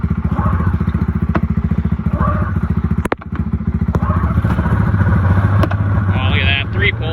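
A Honda single-cylinder engine idles after a pull start, close and loud with a fast, even chugging pulse, briefly interrupted by a sharp thump before settling back into its steady rhythm.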